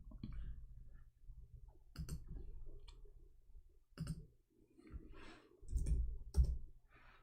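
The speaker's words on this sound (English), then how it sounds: "let me type it for you" Computer keyboard typing, irregular bursts of soft clicks and key taps, close and faint, clustered in short runs with pauses between them.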